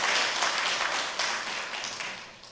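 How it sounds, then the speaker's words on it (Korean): A church congregation at an Easter service applauds in a steady, moderately distant wash of clapping that tapers off over a few seconds. "우리 한번 크게 박수하며 환영하고 축복하겠습니다"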